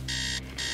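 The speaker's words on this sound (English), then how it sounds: "Turn off alarm." Electronic alarm ringing in the horror game Stories Untold, two loud shrill buzzing bursts separated by a brief gap over a low steady hum.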